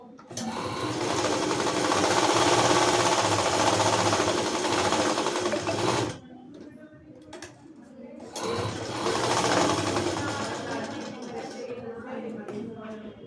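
A sewing machine stitching the front part of a blouse in a steady, close rapid whir, pausing briefly midway before running again, with a person talking throughout.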